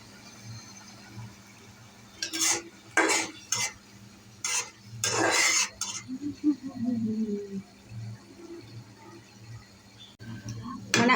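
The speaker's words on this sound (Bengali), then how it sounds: "কষানো হচ্ছে ময় মশলা সব কিছু দিয়ে, দেখুন ভালো করে কষাই ফেলবে।" A metal spoon scrapes and clatters in a pan in several quick bursts as fish is stirred with turmeric, salt and spices, with a faint sizzle underneath and someone talking quietly between strokes.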